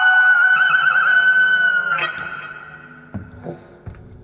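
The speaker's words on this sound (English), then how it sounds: "the super shifter is just for silly effects like echoes" A Super Shifter guitar pedal turns a sustained electric guitar note into a wobbling, warbly effect that fades out, followed by a few short plucked notes with echo tails.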